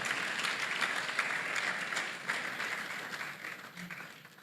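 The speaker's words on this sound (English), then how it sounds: "A round of applause once again for Yappi and MasterCard Foundation" An audience at a student meetup with animation professionals gives a steady round of applause, moderately distant and sustained throughout, easing slightly toward the end.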